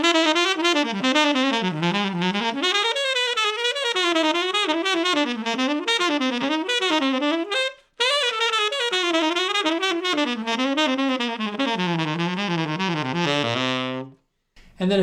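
Fast melodic lines built from four-note cells, played with crisp articulation, in a close, loud, continuous stream of rapid notes with one short break near the middle and a brief stop near the end.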